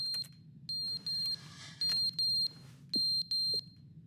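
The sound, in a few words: beeping from a button in the video game The Stanley Parable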